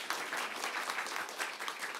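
An audience at a youth culture festival applauds a film director, with dense, fairly quiet clapping that continues evenly throughout without any speech.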